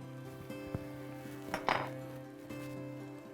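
Meat sauce stirred in a pot, with a few sharp metallic clinks and scrapes of a utensil against the side, quiet and close, a brief louder scraping burst in the middle.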